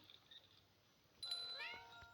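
Cat in a video game letting out a single drawn-out meow, rising clearly above a quiet faint background, no talk.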